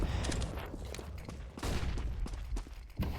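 Rapid gunfire from the video game Counter-Strike on the Dust2 map during a competitive match, dense bursts of shots crackling continuously at moderate level with no talking.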